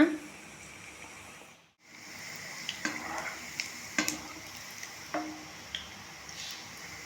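Gulab jamun balls dropped into hot oil fry with a steady low sizzle, broken by a brief dip and then a series of small ticks and soft plops, close, with no voices.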